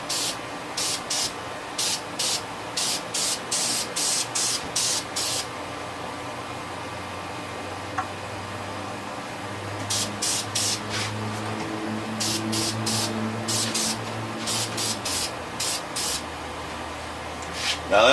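Spray paint hissing onto a model in short repeated bursts, two clusters of quick close sprays with pauses between them and a low background hum.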